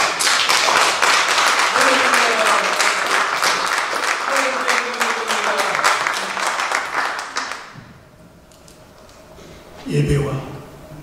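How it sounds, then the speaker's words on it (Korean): Big, sustained applause from a congregation at a church association meeting, with a rapid steady clapping rhythm and voices mixed in before it fades to quiet, followed by a brief voice. "큰 박수로 한번"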